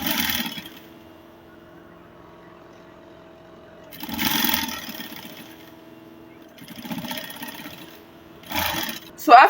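A sewing machine runs straight stitches on Ankara fabric for a child's ball dress in short bursts of close, rapid whirring, separated by quiet pauses with a low background hum.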